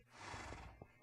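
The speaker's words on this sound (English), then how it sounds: "we got horses." A horse in the Minecraft video game gives a short, faint neigh, followed by a couple of soft thumps.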